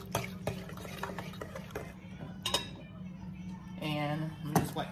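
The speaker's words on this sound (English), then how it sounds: "So we're gonna go ahead and mix this up" Pineapple and banana graham cracker pudding ingredients are stirred in a bowl, with a utensil clinking and scraping against the dish in irregular bursts and some wet mixing sounds, no voices over it.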